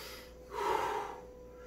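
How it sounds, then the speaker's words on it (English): A single deep, audible breath after a karate kata rises and fades in about a second, close and fairly soft against a quiet room. "Notice how when I do my 3 deep breaths,"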